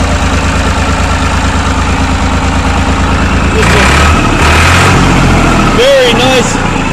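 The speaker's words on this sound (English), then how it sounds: "Very nice running tractor." A Massey Ferguson 135 tractor engine idles loudly and steadily close up, a constant low diesel rumble with a brief rise in revs midway, while someone talks over it.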